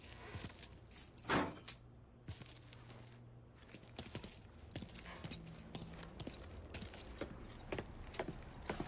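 Car keys jangle in the Mafia 3 video game, a short bright rattle early on, followed by a low vehicle rumble and scattered clicks and knocks in a quiet scene.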